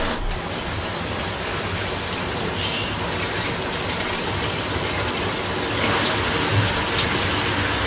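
Water gushes steadily from a shower-style dog wash fixture in a remodeled bathroom, a loud, continuous hiss and spray that holds for several seconds with no talk.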